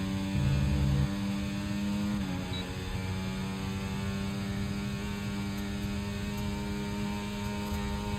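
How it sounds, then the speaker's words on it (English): An F1 car engine in a racing video game holds a steady, high-pitched drone with a gear-like pitch shift early on, loud and continuous with no talking. "Alright, time to see how good the engine really is."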